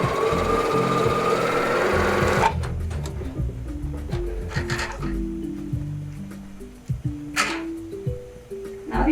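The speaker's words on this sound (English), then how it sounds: "Now we have just simple straight stitch." A home sewing machine sewing a straight stitch, beginning with a loud blur of fast motor whirring and needle chatter that cuts off sharply. Slower, uneven mechanical clicks and stepping whirs follow, with brief pauses between bursts.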